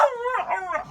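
Service dogs howl along to a song, a single drawn-out, wavering howl that is close and clear, with no other sound.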